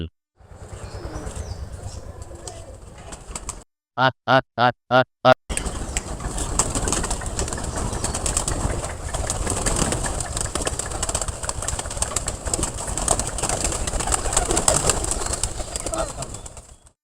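Pigeons coo and murmur amid a steady, busy background of rustling and flapping, with a brief burst of sharp, rhythmic tones partway through.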